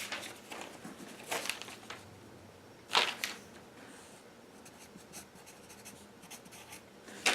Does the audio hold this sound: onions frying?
no